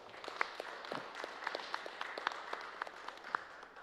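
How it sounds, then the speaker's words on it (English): Light applause from a small audience at a government resolution presentation honoring veterans, soft continuous clapping with a few sharper individual claps standing out, fairly faint and steady throughout. "give them a round of applause"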